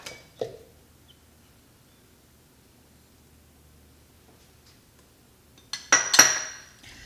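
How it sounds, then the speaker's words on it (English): A spoon stirs sloppy joe mixture with tomato paste and brown sugar in a Ninja Foodi pot: one soft clink early, a long quiet stretch, then a short burst of scraping and clinking near the end. "Give it a stir."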